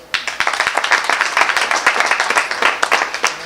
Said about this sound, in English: Round of applause for Robert the Ghost Guerrero